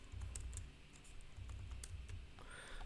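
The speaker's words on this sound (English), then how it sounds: "I am typing the keyword notepad" Keys clatter on a computer keyboard in quick, irregular bursts of clicks. The typing is close and fairly quiet, with no voices, and it pauses briefly partway through.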